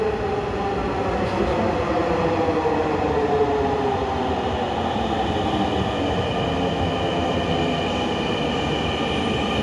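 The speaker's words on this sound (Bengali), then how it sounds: "ওই পাশ থেকে মতিঝিলগামী ট্রেন আসছে" A Dhaka metro train bound for Motijheel rumbles steadily and loudly throughout, with rising and falling tonal whines as it rolls into the station, brakes squealing faintly over the continuous rail noise.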